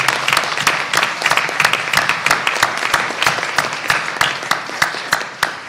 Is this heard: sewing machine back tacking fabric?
no